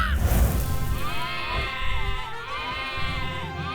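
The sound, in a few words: sheep bleating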